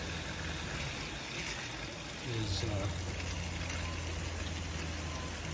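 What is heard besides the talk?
water pump pushing water through camper shower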